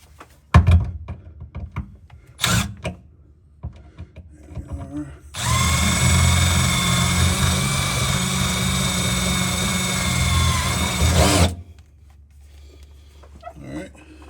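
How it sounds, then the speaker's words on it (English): A steady, loud power drill with a hole saw grinds through metal for about six seconds while fitting a gooseneck hitch to a Ford F-250/F-350 pickup, framed by brief knocks and thumps before and after. "So now we'll go back up top and drill down from the top of the hole saw"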